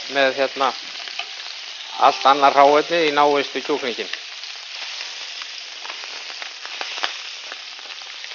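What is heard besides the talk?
chicken browning in a frying pan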